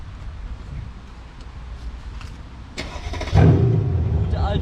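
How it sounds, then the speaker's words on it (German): A Mercedes E63 S AMG tuned to 800 hp starting up: after a quiet stretch with someone speaking, the engine cranks and catches with a loud bark, then settles into a deep, steady idle. "wir machen den Wagen an und auf jeden Fall 800 PS lassen sich auf jeden Fall gut anhören bei dem Wagen"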